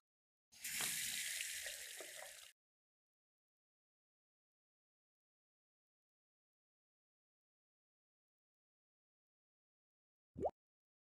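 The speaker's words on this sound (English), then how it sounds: "Should probably get some water in this." Water pouring into an empty cooking pot in the video game Story of a Soup, a close rushing fill lasting about two seconds, followed by long silence and a short final blip.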